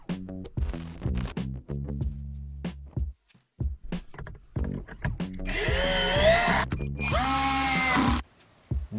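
A power drill with an external Torx E10 bit backing out the larger airbag screws in a Tesla, several short whirring bursts followed by two longer, louder spins with rising pitch, up close.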